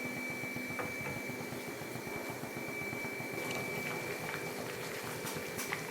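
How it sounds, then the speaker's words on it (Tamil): A pot of rice for paneer biryani boiling steadily on the stove, a soft continuous simmer with faint popping and a thin high whine in the background. "இப்போ இது நல்லா கொதிக்கட்டும்."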